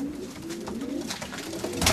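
Soft, low pigeon cooing repeats through the clip at close range, with a brief rustle near the end.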